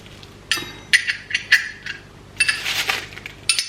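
Close rustling and clinking as a boxed incense burner is unpacked: light taps of hard pieces and crinkly packaging in short irregular bursts, with no talking.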